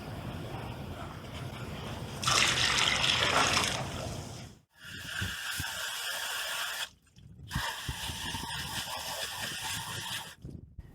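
Acid water mix gushes and splashes as it is dumped into a swimming pool, coming in loud bursts broken by short pauses, with a broad hissing, sloshing spray.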